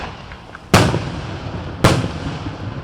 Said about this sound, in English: That sound signifies when a community picnic with a fireworks display in Purdy, Missouri kicks off